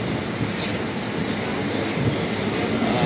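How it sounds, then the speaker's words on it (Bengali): Local train pulling into Naihati Junction on a morning Sealdah–Chakdaha run, a steady loud rumble and rattle of the carriages filling the whole stretch with no break. "তো বন্ধুরা আমাদের ট্রেন চলে এলো এখন নৈহাটি জংশন"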